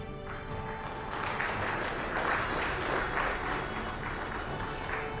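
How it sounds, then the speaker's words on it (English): Sustained applause for bronze medal award winners at a real estate company celebration in a hotel, a steady broadband wash of clapping from a crowd lasting throughout. "I think we need a much more enthusiastic clap for these awards"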